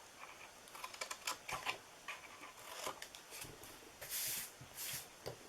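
Paper pieces being cut up with scissors for a Father's Day treat box, a faint series of quick irregular snips and crisp paper rustles, close and quiet, no talk.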